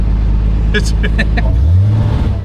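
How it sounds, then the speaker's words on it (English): The engine of a vintage supercar runs after sitting for 10 years, with a loud steady idle and a rising rev, heard close up while someone speaks briefly. "It runs and drives beautifully."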